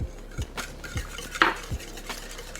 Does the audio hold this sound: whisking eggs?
yes